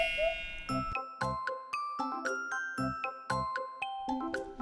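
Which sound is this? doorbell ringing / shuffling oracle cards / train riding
doorbell ringing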